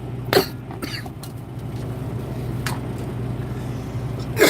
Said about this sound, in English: As I cough up some of that coffee I was just trying to drink